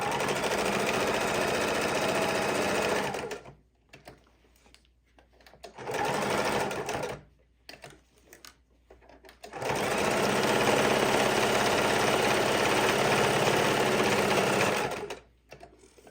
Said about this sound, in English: I'm going to sew back down and around one more time.